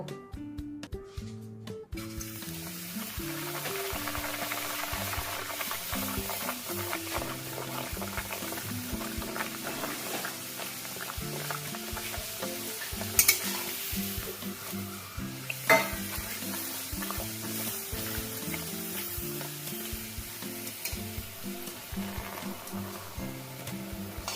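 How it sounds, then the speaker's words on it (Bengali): Peas kachori deep-frying in well-heated oil in a kadai make a dense, steady bubbling sizzle that continues unbroken for over twenty seconds, close and even, with a couple of brief louder crackles. "অনেকগুলো কচুরি দেখো আমি বেলে নিয়েছি। তেল খুব ভালো করে গরম হয়ে গেছে। কড়াইশুটির কচুরিগুলো এবার আমি ভেজে নেব।"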